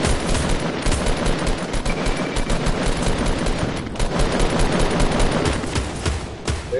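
Rapid automatic gunfire in the video game Fortnite Battle Royale crackles loud and continuous, a dense unbroken barrage of shots that swells and dips without pause.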